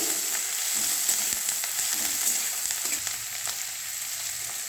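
Chopped ginger and green chillies fry for chilli paneer, a steady, dense hiss of oil that holds evenly throughout, close and fairly loud with no talking.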